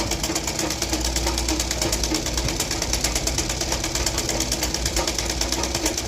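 A sewing machine runs steadily and quite loudly, stitching the lining of a blouse in an even, rapid mechanical rhythm with no pauses or talk.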